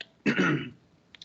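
A single short, rough throat clearing from a lecturer, close and fairly loud, followed by a brief pause with a couple of faint clicks.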